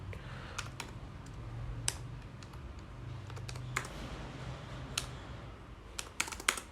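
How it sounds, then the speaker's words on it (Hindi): Computer keyboard typing, irregular clicks and taps close by, faint over a low steady hum, with a few quicker keystrokes near the end. "कीबोर्ड"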